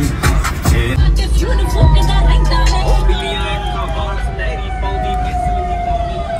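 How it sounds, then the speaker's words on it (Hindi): A loud police-style siren (hooter) fitted on a Scorpio SUV wails with rising and falling tones close by, mixed with heavy traffic rumble and horn blasts. "भाई साइरन है वाला बड़ा।"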